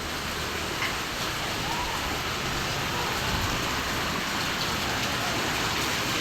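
Steady, heavy typhoon rain in Imus, Cavite pours without a break, a dense continuous hiss of drops drumming on surfaces close by, with no voices.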